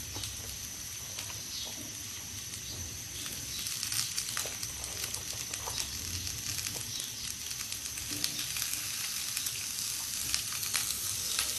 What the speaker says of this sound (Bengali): আর হচ্ছে আমি তেল দিয়ে দিলাম, এর মধ্যে আমি এখন কেটে রাখা ফুলকপিগুলো দিয়ে দেব।